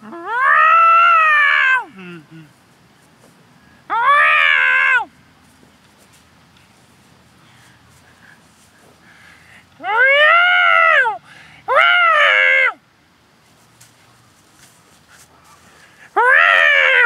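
A voice imitates a loud cat meow in five drawn-out, wavering yowls separated by short quiet gaps, with soft shuffling between them.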